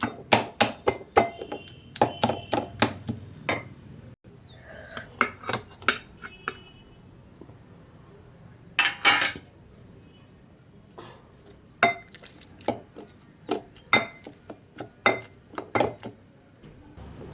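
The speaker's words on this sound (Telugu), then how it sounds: "వంకాయని ఒక్కొక్కటి వేసి దీంట్లో ఇలా స్మాషర్ తోటి ఇలా చేసుకుంటాం" Roasted brinjals being mashed with a metal smasher in a pot, sharp metallic clanks and knocks coming in irregular clusters of quick strikes with short pauses, close and clear over a quiet kitchen background.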